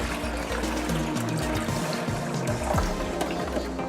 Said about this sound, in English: Lift up the back cabinet and pour in the water.